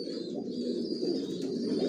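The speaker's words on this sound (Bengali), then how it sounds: "জনসনের লংয়ের কবুতর দিয়ে শর্ট, মিডল, লং সবভাবে রেস করা যায়।" Young Johnson-strain racing pigeons in a loft coo in a steady, overlapping low murmur that runs without a break, with no talking.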